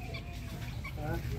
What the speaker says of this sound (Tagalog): manok, sisiyo